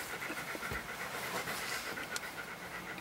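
A dog pants steadily and rapidly up close, a continuous rhythmic breathy huffing with a brief louder snort partway through, no voices.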